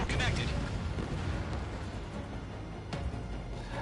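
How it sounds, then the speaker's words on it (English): A missile strikes its target and explodes in the Ace Combat video game, a loud, dense booming rumble that starts at full strength and slowly fades over a few seconds. "Missile connected."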